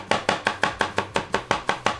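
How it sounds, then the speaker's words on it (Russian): Quick, evenly spaced knife strokes finely chopping celery strips on a cutting board, about a dozen crisp chops in a steady rhythm, close and clear. "А их уже очень мелко шинкуем."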